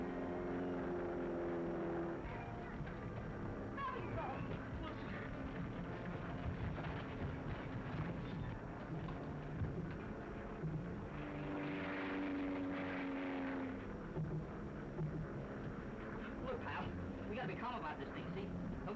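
A steady propeller-plane engine drones throughout, close and loud, with people talking over it.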